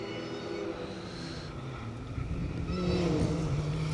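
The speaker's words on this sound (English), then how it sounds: "You can hear that supercharger whirring as it comes into view." A steady supercharger whine and engine roar building in volume as a rally car approaches on a Greystoke Stages rally stage, the pitch rising toward the end.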